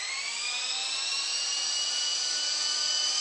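The rotor of an Esky King V3 radio-controlled helicopter spins up with a loud, high-pitched whine that stays steady and close throughout.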